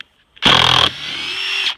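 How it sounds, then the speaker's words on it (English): A power drill whirs loudly during off-grid cabin arch construction, first at full speed, then settling to a steady, slightly lower hum that runs for over a second before stopping. "put the drill in the right direction."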